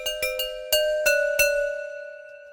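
Short articulation from the Spitfire Audio Crystal Bowls sample library: six bright, glassy struck-bowl hits, three soft quick ones then three louder spaced ones, the last ringing out and fading.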